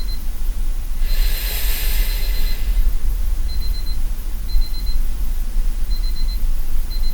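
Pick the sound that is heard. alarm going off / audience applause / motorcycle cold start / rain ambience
alarm going off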